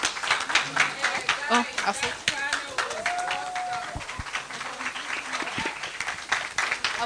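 Audience clapping for panelists at the close of a symposium session on illicit alcohol and drug abuse in Kenya, a scattered, uneven patter of hands mixed with chatter and moving chairs as people stand.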